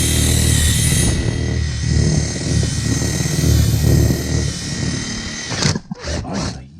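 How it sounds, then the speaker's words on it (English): A steady high-pitched power drill whine with a 1/4 inch bit drilling holes runs for several seconds, then cuts off with a few short bursts as the bit stops and restarts. "Been using the 1/4 inch Harbor Freight's best Chinese 1/4 inch drill bit there"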